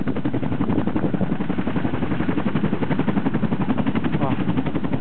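A rescue helicopter on a training drill in the mountains near Jiaming Lake and Sancha Mountain, heard as a steady, throbbing rotor chop with a muffled engine drone that continues unbroken throughout.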